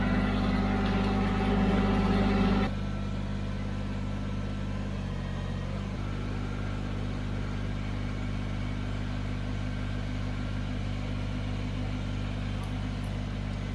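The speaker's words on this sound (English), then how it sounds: "So much easier with this tractor." A Kubota BX23s tractor engine runs at a steady idle-like hum, close and constant, louder for the first couple of seconds then settling into an even drone.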